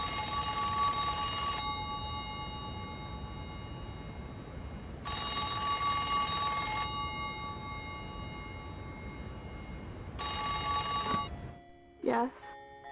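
An old-style telephone bell in a hallway rings in repeated long bursts with pauses between them, steady and moderately loud, in the dreamcore murder-mystery game Sins of the Past, ending with a short click as it is picked up.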